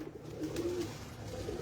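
Pigeons, prized champion birds, coo steadily in a low, soft, rolling call that lasts throughout, fairly close and alone with no talk.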